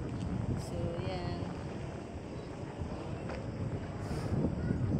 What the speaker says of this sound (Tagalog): Malamig dito yung hangin, no?